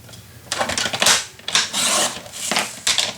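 A half-inch strip of paper is cut for a mini album, with several close scraping, rasping strokes and brief pauses between them.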